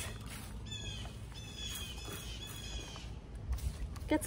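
Birds chirp and screech in the background, thin high calls repeating over steady outdoor ambience, fairly faint and distant.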